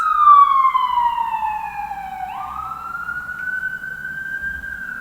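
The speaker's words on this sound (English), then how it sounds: "Now we got the sirens going by." An ambulance siren passes by outdoors, a loud wailing tone that sweeps down in pitch and then rises again, with faint traffic rumble beneath and no talk.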